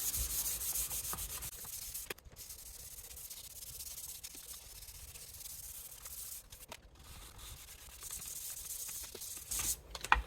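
Sandpaper rubs steadily across the fingerboard of a brand-new Gibson Les Paul, a soft, close, continuous scratchy rasp with a few short pauses and light knocks.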